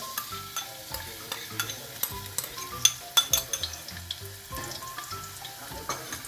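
Garlic fries in oil in a pan for a Thai stir-fry of bean sprouts, pork blood and white tofu. It crackles and sizzles close up, with the spatula tapping and scraping in uneven bursts.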